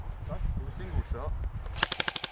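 A Tokyo Marui SCAR L airsoft gun fires a quick burst of about eight sharp, evenly spaced shots at close range during an outdoor airsoft game, right after someone speaks briefly.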